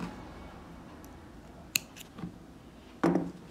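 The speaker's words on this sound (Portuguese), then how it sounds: "faço uma correntinha e vou cortar este fio" Scissors make a few small, sharp snips while cutting crochet yarn up close in a quiet room, with short clicks spaced over a few seconds.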